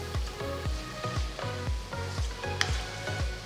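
Broccoli and vegetables stir-frying in a pan with sriracha hot sauce, loud sizzling broken by a regular rhythm of about a dozen tossing scrapes, close and without any talking.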